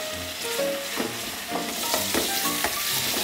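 Tripe with vegetables sizzles and crackles in a pan over low heat as it is stirred, with continuous frying hiss and bursts of scraping from the stirring, close and fairly loud with no voices.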